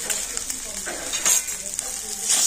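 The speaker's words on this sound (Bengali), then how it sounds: "আর এখন আমি সমস্ত কিছু খুব ভালো করে মিশিয়ে নেব।" A spoon stirs and scrapes boiled, hand-mashed potatoes with salt and spices in a pan, with a soft, steady sizzling and intermittent scraping strokes close by.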